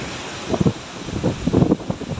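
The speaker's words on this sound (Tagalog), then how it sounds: "Makita mo kung gaano kalakas yung hangin." Strong wind blows along a shoreline during heavy rain, a continuous rough roar with repeated louder gusts buffeting the microphone, surf and rustling mixed in.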